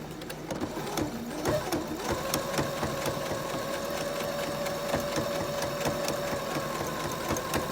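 A home sewing machine stitches a seam on a fabric 3D face mask in one loud, steady run, close up with a constant needle rhythm and no talking.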